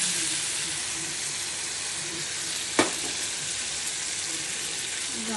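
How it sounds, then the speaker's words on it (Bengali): A spiced mixture with chili and sugar is sautéed in a pan for a Bengali dal kofta dish, giving a loud, even, hissing sizzle. One sharp knock of a spatula stands out midway. "কষিয়ে নিচ্ছি।"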